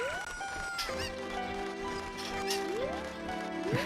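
Chickens cluck and squawk in Ocarina of Time game audio, with bright tonal game sounds and chimes sliding in between, moderately quiet and steady.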